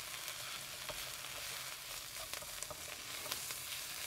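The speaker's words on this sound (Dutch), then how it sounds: "En dat bakken we ook eventjes mee met de uien." Sambal oelek frying with onions in a pan, a steady close-up sizzle with small crackling pops and faint stirring, constant and alone without any voice.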